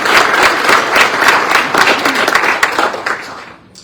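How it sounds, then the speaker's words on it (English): Loud audience applause at an awards night, hands clapping in a close, busy burst that holds for about three seconds and then fades away. "Please join me in giving a round of applause to our Teal Level sponsors."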